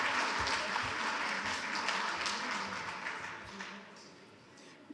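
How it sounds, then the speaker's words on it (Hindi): Audience applause welcoming a poet at a poetry gathering, a steady patter of many hands clapping at moderate distance that gradually thins and fades out toward the end. "आपकी भरपूर तालियां हैं"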